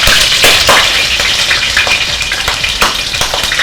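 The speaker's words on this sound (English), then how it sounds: "it's definitely going to sizzle" Boiled meat for hubad adobo hits hot oil and fries with a loud, steady, crackling sizzle that fills the whole stretch, close up with spattering pops throughout.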